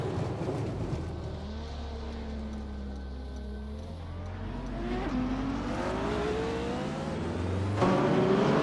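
Race cars in a video game, among them a 1984 Ferrari 288 GTO, drone steadily at an Albi circuit, engine pitch climbing and shifting as they accelerate, with a louder surge near the end.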